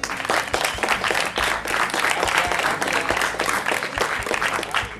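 A crowd claps steadily in dense, sustained applause, a fairly loud and even patter of many hands continuing throughout without a break.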